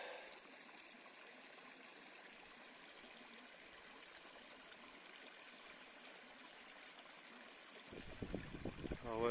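Small stream flowing gently past orchids and wildflowers on a hike in Haute-Loire or Ardèche, a steady soft trickle throughout that grows a little louder and more turbulent near the end.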